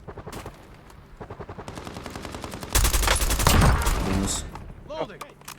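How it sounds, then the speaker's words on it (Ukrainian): Rapid bursts of gunfire in the video game Call of Duty: Warzone crackle in quick rhythmic volleys, building to a loud sustained barrage, with a brief voice near the end. "Хтось стріляє."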